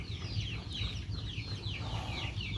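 Native chickens cluck and chatter repeatedly on a Philippine farm, a busy overlapping flock heard nearby over a low background hum.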